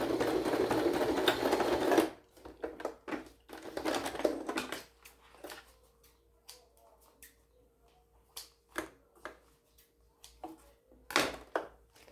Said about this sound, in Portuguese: Eu vou passar as costuras, já volto para mostrar como ficou, que é reta